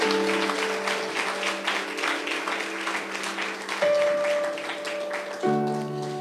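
Applause rises from a church congregation during a Spanish-language sermon, a dense wash of clapping under steady sustained music tones, continuous for several seconds.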